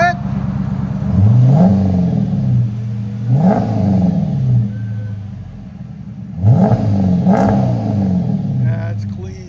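A 2011–2014 Dodge Charger R/T with an aftermarket exhaust revved in a handful of sharp throttle blips over a deep idle, loud and close.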